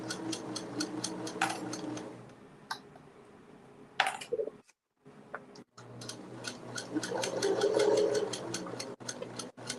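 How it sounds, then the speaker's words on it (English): A sewing machine stitches a fabric pouch in rapid bursts of even, fast ticking, with short pauses and a near-silent gap between runs of stitching. "I probably should be sewing closer to the edge"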